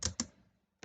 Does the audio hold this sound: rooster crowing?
no